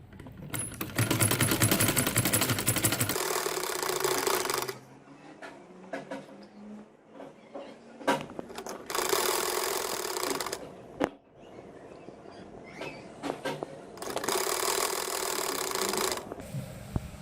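Sewing machine stitching the waistband casing of a pair of kids' shorts, running in three loud bursts of rapid, steady whirring stitching, with quieter pauses of fabric handling in between.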